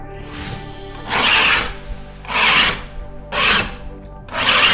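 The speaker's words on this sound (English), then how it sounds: "we're gonna take our knife and we're just going to scrape the boogers off. The little chunks from when we put the trowel through it on our texture coat" A knife scrapes dried plaster chunks off a Marmorino texture coat in four close, rasping strokes spaced about a second apart, each a gritty swell of scratching against the wall.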